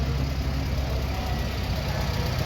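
A Farmall 400 tractor engine runs at an easy, steady pace in a parade, a loud close rumble with constant low drone and no pauses.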